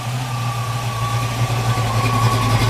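A 1965 Ford Mustang V8, dressed as a Hertz GT350 tribute and fitted with a cam, idles steadily from the rear exhaust. The low, even rumble is loud and close, with no voices.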